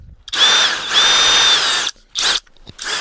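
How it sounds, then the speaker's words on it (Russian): A cordless drill driver whirs in two sustained high-pitched bursts, each spinning up and winding down, followed by two short quick triggers. "Шуруповерт."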